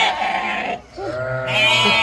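Lambs on a farm bleat loudly and repeatedly nearby, calling for their mothers, with overlapping wavering cries and a brief pause between calls.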